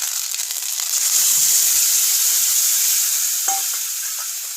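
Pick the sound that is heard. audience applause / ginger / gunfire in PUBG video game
ginger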